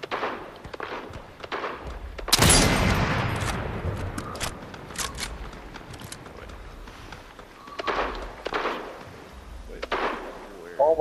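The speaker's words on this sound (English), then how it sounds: "Oh, I was just sniping." Sniper rifle fire in Fortnite: one loud, heavy shot with a long rolling echo, followed by scattered sharper gunshots and game clatter, with players talking intermittently underneath.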